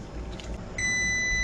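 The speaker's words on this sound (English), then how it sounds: "there's the timer telling us our rice is going to be just right" Kitchen timer beeping over cooking rice, a steady high electronic tone that starts partway through and holds loud and continuous to the end, above a low background rumble.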